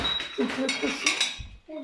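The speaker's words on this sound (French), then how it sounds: "ce que vous entendez, c'est rien de grave. C'est juste toute la vaisselle qui est là et qui est cassée déjà à la base." Old, already broken china and glassware clinking together as the pieces are handled, a run of bright close clinks and rattles, with someone speaking briefly near the end.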